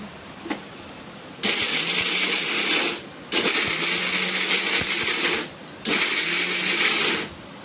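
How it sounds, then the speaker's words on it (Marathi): A kitchen mixer grinder whirs through cashews and almonds in three separate bursts of about one and a half seconds each, loud and close, with short pauses between them. "मिक्सरला बारीक करून घेणार आहे."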